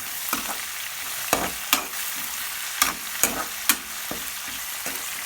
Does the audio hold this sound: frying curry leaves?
yes